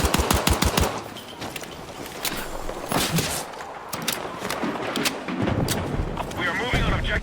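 Vector submachine gun firing in rapid bursts in a shooter game, a tight string of sharp shots opening loud and close, followed by scattered gunfire and distant bangs as a voice talks over it.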